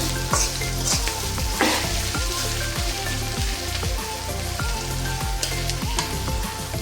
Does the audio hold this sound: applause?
no